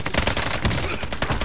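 Rapid gunfire in a battle-royale style shooter game, a dense burst of sharp, close shots rattling continuously for a moment.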